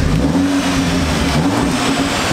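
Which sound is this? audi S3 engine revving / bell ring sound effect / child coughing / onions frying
audi S3 engine revving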